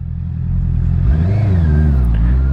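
A 2021 Honda CB650R with a Black Widow aftermarket exhaust revs up from a rumbling idle, climbing sharply in pitch with a deep, throaty exhaust growl, loud and close.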